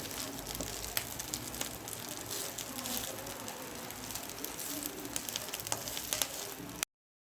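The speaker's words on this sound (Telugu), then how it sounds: "ఆ ఆరబెట్టుకున్న కరివేపాకుని ఈ ప్యాన్లో వేసి వేయించుకుందామండి" Curry leaves sizzle and crackle steadily as they roast in a hot pan, a soft continuous frying hiss with occasional sharper pops.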